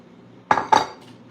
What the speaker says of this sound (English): I need to run the dishes.